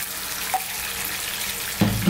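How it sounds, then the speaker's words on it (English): Water runs steadily into a cooking pot for a lamb curry, a continuous rushing splash with a slight change in tone near the end as the flow hits differently. "we're going to get some water in there"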